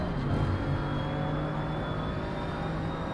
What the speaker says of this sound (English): I like the sound of the new Porsche as well